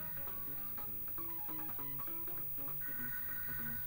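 A telephone rings quietly and continuously in a room, a steady melodic ringtone pattern with no talking.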